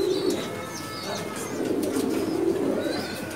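A flock of homing pigeons in a breeding loft coos low and continuously at close range, the murmuring swelling midway, with scattered light chirps and a brief flutter of wings.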